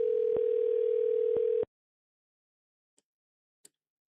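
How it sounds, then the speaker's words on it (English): A telephone ringback tone sounds while a call is placed: one steady, close tone that lasts under two seconds and cuts off into silence broken by two faint clicks. "So let's see if young Felipe will pick up the call."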